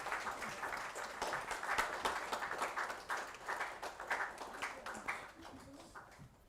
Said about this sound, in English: Can I request everybody to have a round of applause